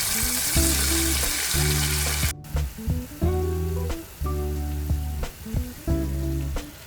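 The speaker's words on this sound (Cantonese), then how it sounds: "剩翻嘅醃料都唔會嘥㗎喎，倒埋落去俾佢炸，炸到佢變金黃色。" Spiced marinated chicken for Malaysian Malay-style spicy fried chicken deep-frying in hot oil, with the leftover marinade poured in, a loud dense sizzle at first, then sizzling broken by repeated clunks and stirring bursts, no voices.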